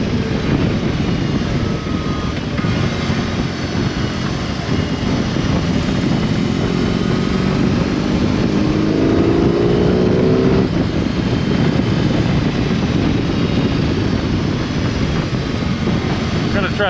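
A 2022 BMW R18B motorcycle engine pulls under acceleration while riding, a steady loud drone mixed with wind rush, with one audible rise in revs midway.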